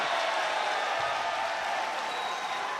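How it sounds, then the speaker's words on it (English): Basketball arena crowd during an ASEAN Basketball League game, Hong Kong Eastern against Macau Black Bears, roars steadily during free throws, a dense, constant wash of noise with no breaks. "This crowd is so loud."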